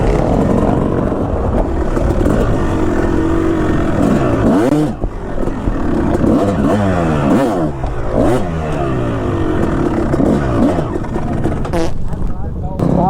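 Old 2005 Kawasaki KX250 two-stroke dirt bike on an endurocross course, its engine loud and close throughout with constant revving and rising and falling pitch, clattering over obstacles, with a voice talking over the top.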